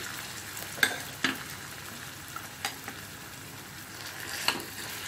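Soft frying sizzle fills the background while a spoon clinks against the pan a few times, with a light scrape of stirring now and then.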